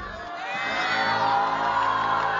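A studio audience on a Chinese talk show swells into whoops and cheering, the crowd noise rising and holding loud toward the end.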